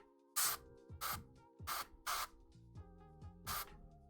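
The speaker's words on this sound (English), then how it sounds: "let me just go ahead and hit it with a fucking hair spray thing" A hair spray can fires five short, sharp hissing bursts in an uneven rhythm, close and loud against a quiet tonal background.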